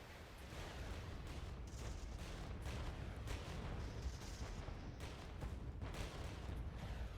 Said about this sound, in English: There go the Grad missiles.